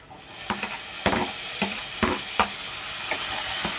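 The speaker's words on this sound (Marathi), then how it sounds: "टॉमॅटो चांगला नरम होईपर्यंत शिजून घेऊया" Tomatoes frying in hot oil with coriander powder and masala for a masoor dal with bottle gourd, a steady close sizzle broken by several sharp spatula scrapes and stirs against the pan.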